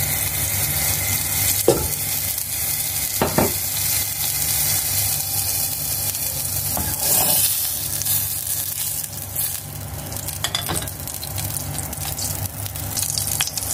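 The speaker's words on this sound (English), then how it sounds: "Maglagay tayo ng kunting butter at saka olive oil." A little butter and olive oil sizzle in a hot pan, a steady, bright crackling hiss that runs on without a break, broken now and then by a soft scrape or clink, with no one talking.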